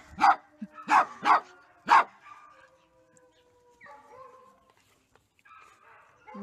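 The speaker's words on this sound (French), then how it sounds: "je te montre à Tata Estelle, tu peux arrêter de japper, hein" A small dog yaps indoors: four sharp, high barks in quick succession near the start, followed by softer whines and faint household noise, close to the microphone.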